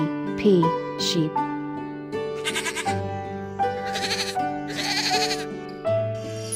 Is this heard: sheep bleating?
yes